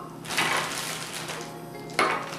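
Ice cubes dropped into a glass of homemade lemonade, two bursts of clinking and rattling, the first longer and the second a sharp brief clatter, close and fairly quiet with no voice.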